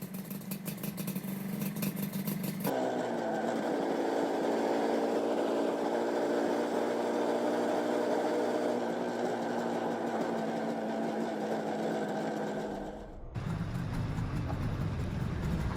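A 1970s Kawasaki KH250 two-stroke triple motorcycle engine runs steadily for about ten seconds, a loud, buzzy, sustained drone with a dense layered tone. A brief rougher sound comes before it and after it.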